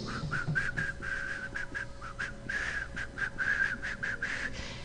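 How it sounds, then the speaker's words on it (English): A soft, airy whistle plays a wordless tune in short repeated notes, breathy and fairly quiet over a faint background hum. "It is a breathy whistle."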